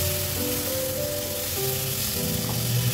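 Chopped tomato and green chili added to browned onion in a frying pan, giving a steady close sizzle and crackle of hot oil throughout.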